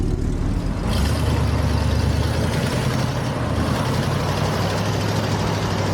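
Truck engine pulling a vehicle stuck in sand, a loud steady low diesel rumble that swells slightly as it strains, continuous and close with wind noise and no talking.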